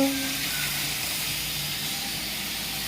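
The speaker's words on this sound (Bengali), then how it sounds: "আমি এখন মাছ ভাজা করছি" Fish frying in a pan in a home kitchen, a steady loud sizzling hiss that holds evenly for a few seconds, close up and with no voices.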